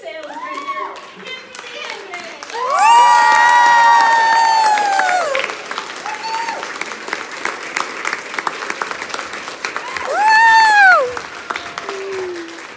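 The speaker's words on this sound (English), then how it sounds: "So can you guys please give like the hugest round of applause?" Crowd at a sales event applauding and cheering for a senior sales director, continuous clapping punctuated by two loud high-pitched whoops and screams, with voices calling out in between.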